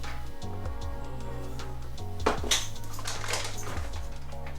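Dishes clink and clatter in a sink with a couple of sharper knocks partway through, set against steady background music and hum, no talking.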